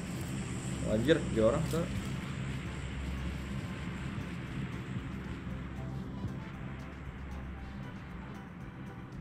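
In a PUBG match, a steady low airplane drone passes overhead, continuous and moderately loud, with someone talking briefly over it.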